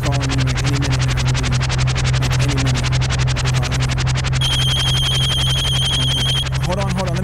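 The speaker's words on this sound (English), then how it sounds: "Hold on, let me get the phone." A telephone rings with a pulsing, electronic tone over a loud, dense bed of steady noise and a low hum, while a voice is heard near the end.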